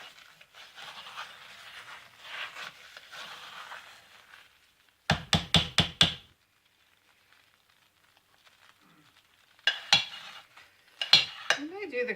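Hot process soap is stirred an hour into the cook, with soft scraping at first, then bursts of rapid clattering strokes against the pot separated by quiet pauses.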